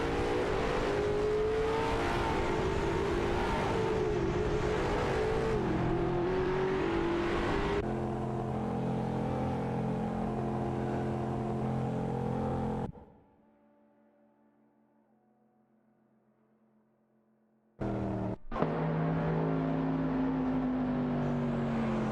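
AI-driven race cars overtaking in a racing video game, loud sustained engine roar with revving tones, cutting abruptly to near silence before engines return.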